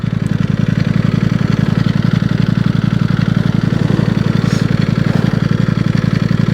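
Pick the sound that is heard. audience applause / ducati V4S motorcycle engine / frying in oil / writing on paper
ducati V4S motorcycle engine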